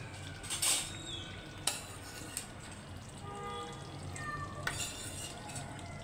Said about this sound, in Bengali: পেঁয়াজ আর যে বেল পেপারগুলো ভেজে রেখেছিলাম সেগুলো দিয়ে দিচ্ছি এখন।